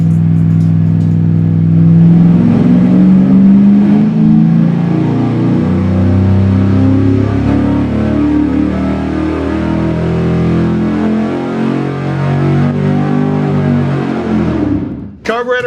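A carbureted V8 on an engine dyno revs hard through a full pull, a loud, close, rising roar that holds for about fifteen seconds before cutting off abruptly at the end.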